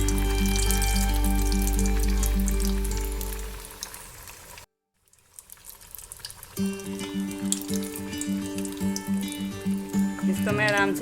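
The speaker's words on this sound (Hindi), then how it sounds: "फ्राई करने के लिए मैंने एक पैन में ऑयल गरम किया है और इसमें मैं अपने पफ को डाल दूँगी। और इसको फ्राई होने दूंगी।" A pizza puff sizzles in hot oil in a pan, a steady loud crackling hiss that briefly drops out and then returns with faint bubbling, while someone talks throughout.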